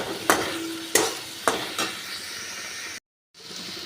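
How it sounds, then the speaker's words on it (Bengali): Potatoes fry and get stirred in a pan: a loud hissing sizzle with four rhythmic scraping strokes early on, then steady frying after a short gap of silence. "এবার আলুগুলো একটু ভেজে নিচ্ছি"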